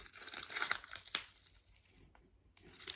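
A small plastic bag holding 25 grams of Moonlight Fig hand soak crystals is crinkled and handled up close, producing quiet irregular rustles and a few sharper crackles that fade near the end.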